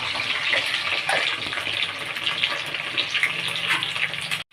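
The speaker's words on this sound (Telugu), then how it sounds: "ఇప్పుడైతే బెండకాయ నూనెలో వేయించుకుందాం." Okra pieces fry in hot oil with a continuous loud bubbling sizzle close by, which cuts off abruptly at the end.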